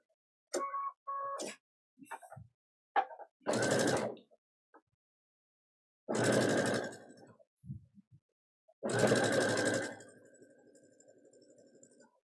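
A sewing machine stitches a long seam in several separate runs of whirring mechanical noise, close and fairly loud, with quiet gaps and small clicks between the bursts and no talking.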